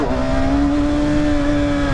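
A motorcycle pulling a wheelie, its engine held at high revs in a loud, close, steady drone with a constant tone for two seconds, no voices.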